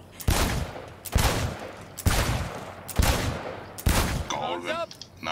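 Gunfire in the video game Cyberpunk 2077: five loud, evenly spaced shots about one second apart, each with a sharp crack and short decay, followed by a short stretch of speech after the last shot.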